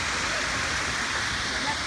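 A pool water feature at Coronado Springs splashes continuously, a dense even hiss of falling water filling the whole moment at moderate distance, with no breaks or rhythm.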